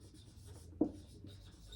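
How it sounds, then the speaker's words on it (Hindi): Writing on a board in a classroom maths lesson: a short, close scratch of the stroke with a single soft tap as it lands, against a quiet room. "तो मैं यहां लिखती हूं"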